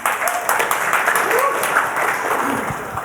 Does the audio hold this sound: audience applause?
yes